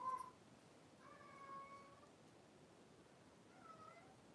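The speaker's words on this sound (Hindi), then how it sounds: "ओह बिल्ली रो रही है बहन" A cat meows indoors a few times in a quiet room, with faint tonal cries at the start, around the middle and again near the end, soft and somewhat distant.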